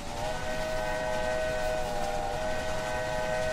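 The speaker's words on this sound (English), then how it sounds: "they actually give you a button to hit the train horn" A train horn sounded in the Railway Empire video game, a steady sustained multi-tone blast holding loud and unbroken throughout with a rumbling rail background beneath it.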